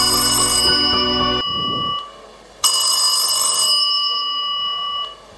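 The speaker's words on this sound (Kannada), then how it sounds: "ಪರಿಚಯಸ್ಥರ ಫೋನ್ ಕಾಲ್ ಒಂದು ಬರುತ್ತದೆ." A telephone rings for an incoming call with two loud electronic bursts separated by a short gap, clear and close, with no talking.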